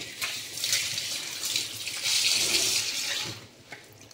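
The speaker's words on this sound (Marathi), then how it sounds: "त्यासाठी मेथीची भाजी धुवून घेऊया।" Fenugreek (methi) leaves being washed in water in a kitchen; a steady, close splashing and swishing of water runs throughout, swelling louder midway and easing toward the end, with no talking.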